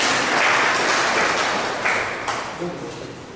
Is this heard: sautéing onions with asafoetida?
no